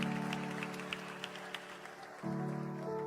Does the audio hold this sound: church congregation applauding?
yes